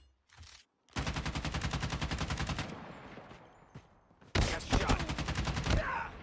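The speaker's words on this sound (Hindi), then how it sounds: "शॉटगन भाई, शॉटगन" Shotgun fire in the mobile shooter Call of Duty Mobile: two loud stretches of rapid, evenly spaced shots, separated by a brief quieter gap with a fading tail, close and punchy.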